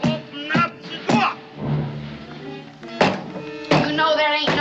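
Someone bangs on a wooden door in a frontier-era western drama, a few heavy thuds that land between and under loud talking voices.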